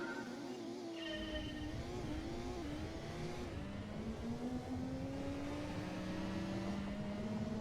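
Racing video game car engine accelerating steadily in a rising whine, with gear changes stepping the pitch down and back up, while a Citroen Saxo opponent runs close alongside; loud, continuous and mechanical, with no voices.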